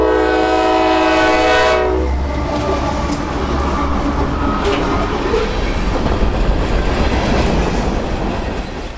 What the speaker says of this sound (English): CSX 7264 leads L781 past McDonald's, notching up their normal-sized train into town